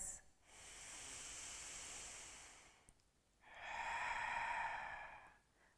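Slow, deep breaths drawn during a yoga class, one long airy inhale and one long airy exhale, close and soft with a short pause between.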